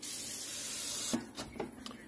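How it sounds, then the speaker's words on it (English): Rust protection sprayed onto a car's suspension joints and end links during winter maintenance: a steady hiss, then a few short bursts of spray near the end. It is close and moderately loud, with no talking. "So you can see there, I'm spraying down."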